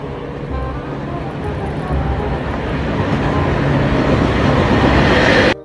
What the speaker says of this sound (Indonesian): Lihat teman-teman, ada kereta cepat.